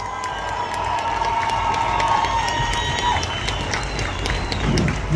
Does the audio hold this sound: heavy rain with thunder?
no